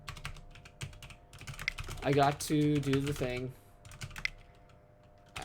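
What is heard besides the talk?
typing on a computer keyboard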